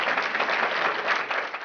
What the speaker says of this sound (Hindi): प्लीज स्पेशल तालियां बजाएं